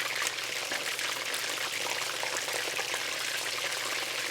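Chicken wings frying in a pan, a dense, continuous crackling sizzle at close range, steady and fairly loud throughout with no talk.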